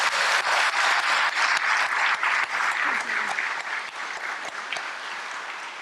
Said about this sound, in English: Let's give our 3 new honorary fellows one more round of applause.